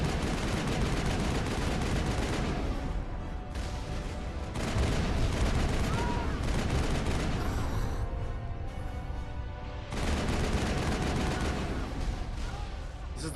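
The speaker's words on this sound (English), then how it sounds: "Don't run out in the open when there's fucking missiles flying at you" Sustained combat noise from the video game Mass Effect, missiles and gunfire in a dense, loud wash of blasts and rumbling explosions that swells and briefly dips over about thirteen seconds.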